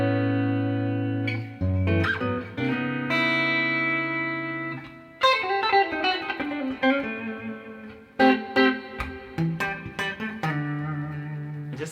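Clean electric guitar on a Music Man guitar's neck pickup plays sustained chords and then picked notes, warm and round with plenty of reverb, heard alone.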